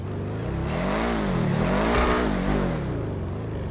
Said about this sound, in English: listen to the exhaust on this thing. It just sounds so amazing.